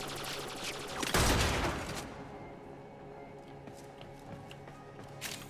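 Enemy gunfire in the Warframe video game, a loud close volley of shots bursting for about a second, then fading into sparse scattered shots over a low game ambience.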